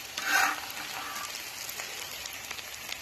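Onions and breakfast food fry on a disc cooker at a New Mexico campsite, giving a soft, steady sizzle with a brief louder crackle near the start, faint and alone without talk.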